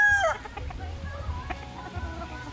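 Chickens and roosters on a chicken farm cluck and call steadily, with one short crow-like cry near the start over a low background rumble.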